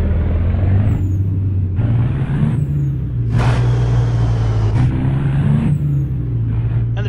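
In American Truck Simulator, a low, steady engine rumble from an International 9900i truck with a CAT engine holds throughout, broken by several sharp hissing bursts of an air brake releasing.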